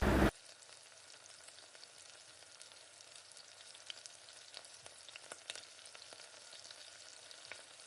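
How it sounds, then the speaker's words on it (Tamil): Mustard seeds crackle and pop in hot oil for a Tamil temple-style tamarind rice, a steady close sizzle broken by scattered sharp spitting pops, with no voices. "எண்ணெய் ஊற்றிட்டு கடுகு கொஞ்சமாக கடுகு சேர்த்து"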